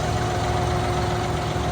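A tractor engine idles steadily, a low rumbling drone with a constant hum, close and continuous without pauses.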